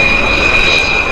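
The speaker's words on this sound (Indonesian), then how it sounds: "Wow, jet tempur." A toy fighter jet gives off a loud, steady whining roar like a jet engine, constant for about a second with no pauses and no voices.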